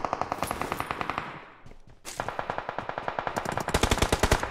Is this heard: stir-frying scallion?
no